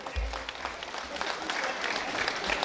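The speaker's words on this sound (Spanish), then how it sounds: "Con ustedes, fuerte el aplauso." A crowd claps steadily and fairly loudly, the applause continuing evenly with a voice speaking briefly underneath.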